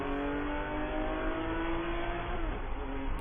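Porsche Cayman cup race cars, including a 2007 Cayman, race at Spring Mountain with a loud, sustained engine roar that rises in pitch as they accelerate and shift, several engines overlapping closely.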